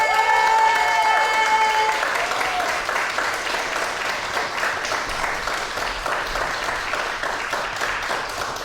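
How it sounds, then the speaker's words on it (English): Audience applause at a book launch, a dense crowd clapping steadily throughout, with a few cheers and whoops rising over it early on. "Please, warm round of applause"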